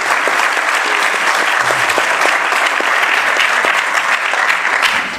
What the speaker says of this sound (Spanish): Agradecemos entonces con un fuerte aplauso